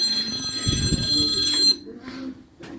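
A phone rings indoors with a bright, steady electronic trill that cuts off partway through, while people talk over and after it.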